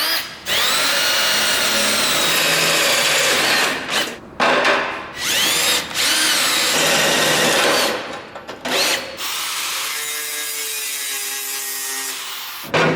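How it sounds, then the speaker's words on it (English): A power drill bores a hole into a ceramic-coated header for an O2 sensor on a supercharged big block, loud grinding bursts with brief pauses, ending in a steadier whining run. "So, drill a hole right there"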